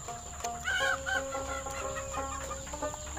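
Egyptian Fayoumi chickens and chicks on a farm cluck and cheep steadily, with several birds calling close by over a constant background hum and no talking.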